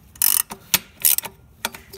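A ratchet on a long extension bar clicks in short rapid bursts while loosening a turbo bracket bolt on a Toyota engine, several quick sharp ratcheting runs separated by brief pauses, close and loud.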